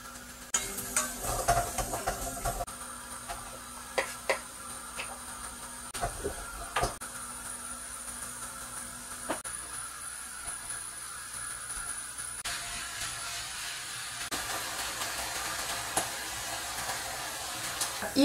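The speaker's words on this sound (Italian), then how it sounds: "Il ragù alla bolognese sta bollendo a fuoco basso" Bolognese ragù with pork, tomato sauce, red wine, onion, celery and chopped parsley simmering on low heat in a pot: a steady soft sizzle and bubble with occasional clinks and scrapes, no one speaking.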